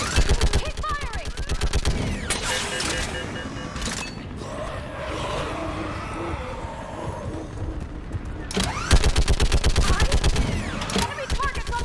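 Rapid automatic gunfire from Mass Effect 3 combat rattles loudly in dense bursts, pausing midway under a murky battle din with voices, then resuming in sharp repeated volleys near the end.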